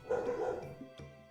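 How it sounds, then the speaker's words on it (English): A dog barks and yips several times nearby, a short run of moderately loud woofs with a small whimpering edge. "You'll excuse the barking, I hope."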